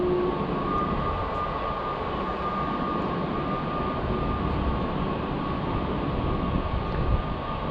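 Aboard a moving metro train, a steady, dense interior rumble and hum holds constant from start to end, with a faint high tonal whine over the roar.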